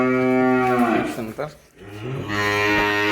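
A Friesian mix heifer calf, about eight months old, moos loudly and close by in two drawn-out calls with a short break between them, and no talk is heard.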